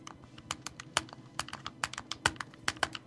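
Rapid clicking of video game controller buttons during Mega Man X2 play, a quick irregular run of sharp taps and double taps, close and crisp with no talking.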